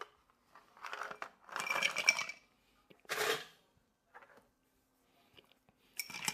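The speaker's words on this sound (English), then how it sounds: "Going to add some ice to our glass." Ice cubes drop into a rocks glass for an old fashioned cocktail, several separate bursts of clinking and clattering at close range, with quiet pauses between them.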